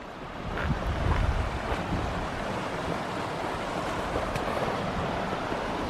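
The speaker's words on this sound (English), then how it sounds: "You know how I feel about water running over granite slabs." Water rushes over granite slabs in Kings Canyon's Sierra backcountry, a loud, continuous roar mixed with gusts of wind across the microphone.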